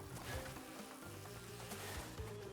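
Bees buzz steadily from a beehive in the video game Crash Bandicoot 2, a faint continuous droning hum with shifting pitch layered over low game music.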